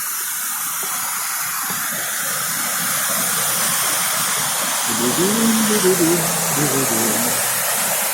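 Steady broadband rush of falling water from a small cascade, with a voice briefly audible under the noise near the end.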